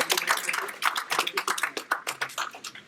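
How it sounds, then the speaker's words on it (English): A small seminar audience claps for a participant in a negotiation workshop, giving a short, uneven round of applause made of fairly close, individual hand claps that fade out toward the end. "give her a huge round of applause"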